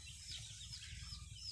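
Rooster clucking on a farm, a steady stream of soft clucks and chatter over a low rumble of outdoor background noise, with no talking.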